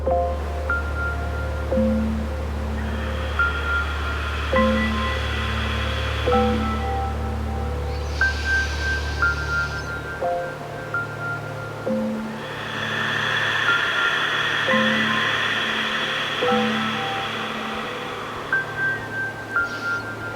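Ocean-like ujjayi yoga breathing at the back of the throat during a detox class comes in soft, hissing waves, rising and falling over gentle background music with sustained tones.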